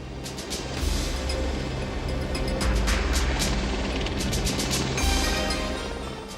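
A helicopter flies at high altitude, around 3,000 to 4,000 metres over Ethiopia, giving a steady close rotor roar with rhythmic thumping throughout, with no voices.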